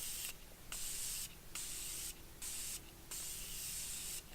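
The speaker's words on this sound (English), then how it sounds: "I am going to go in with my Morphe setting spray." Morphe setting spray misted onto a face in four or five close, bright hissing bursts, each under a second long, separated by short pauses, with no talking.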